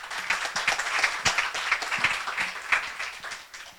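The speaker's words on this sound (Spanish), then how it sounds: "Le damos un aplauso y una bienvenida a la doctora Clara Mónica." Applause at a creative industries forum welcoming a speaker to the stage, a steady crackle of many clapping hands with a few sharper nearby claps, even and moderately loud throughout.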